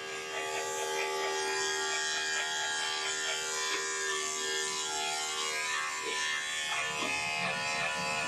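Electric clippers with a number 10 blade buzz steadily while trimming the underbelly of a Schnauzer Yorkie mix during grooming, a continuous close whine with slight shifts in pitch as the blade moves through fur.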